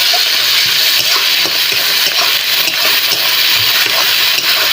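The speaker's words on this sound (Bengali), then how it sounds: "তারপর জিরে বাটা দিয়ে দেবো মশলাগুলি ভেজে ভালো করে" Spices with green chillies and ground cumin paste fry in a pan, giving a dense, close, steady sizzle with faint stirring clicks and no voices.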